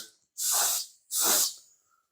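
An airbrush spraying Tru-Color blue paint onto an HO scale model, two short, close hissing bursts separated by a brief silence.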